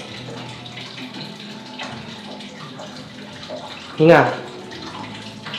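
A tap runs steadily while someone washes their face at a sink, with a brief louder splash near the end and people talking over the water.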